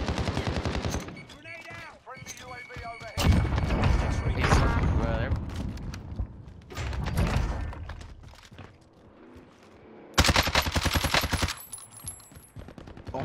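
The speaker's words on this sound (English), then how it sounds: "Oh, I'm getting shot from the side." Bursts of automatic gunfire in Call of Duty Warzone, some close and loud, with booms and mechanical clatter between them. People talk over the shooting.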